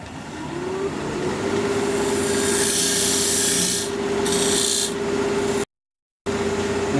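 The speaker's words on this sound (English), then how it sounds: "I'll use my diamond point tool to square up the edges of the tenon." A wood lathe spins a hawthorn bowl while a diamond point tool cuts the tenon, giving a steady close scraping rasp over a constant motor hum. The cut swells and eases in brief passes, then stops abruptly for a moment before resuming.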